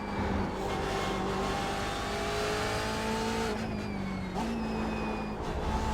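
BMW race car engine in iRacing, a loud sustained drone with steady revving that climbs, dips briefly with a gear change, then holds on, heard close and without talk.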